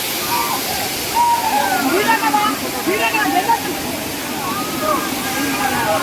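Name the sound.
waterfall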